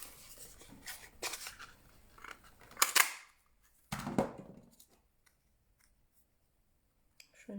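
Scissors snipping a paper label, a few quick crisp cuts close up, then a final snip and near silence, with faint handling noises.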